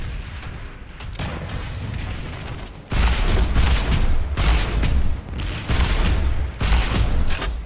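Heavy weapon fire from a MAX unit in the PlanetSide 2 video game, loud repeated booming blasts in bursts, each followed by a short gap, with no talk over it.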